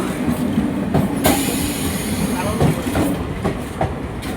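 A train rolls into Kalinarayanpur Junction, a loud, close rumble with rhythmic wheel clacks over rail joints and a brief metallic screech, steady throughout.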